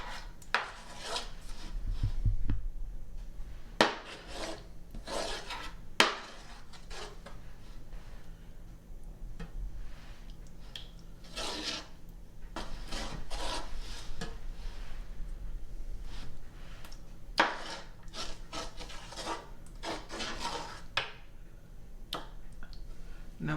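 Sauce being spread across the bottom of a roasting pan for Nona's braciole, with scattered clinks and scrapes of a utensil against the pan, close by and fairly quiet, with some brief talk in between.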